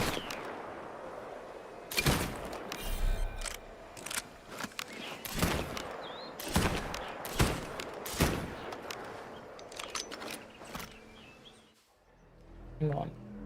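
Gunfire in Assassin's Creed Black Flag: a dozen or so loud, sharp shots at irregular intervals, some close together, with a person talking between and over the shots.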